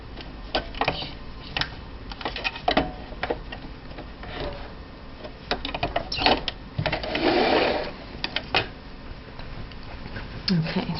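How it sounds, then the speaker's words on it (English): A sewing machine back-stitches a French seam in fabric, giving short bursts of rapid mechanical stitching with brief pauses between them, heard close up alongside a speaking voice. "And I'm back stitching, making sure I'm sealing those ends."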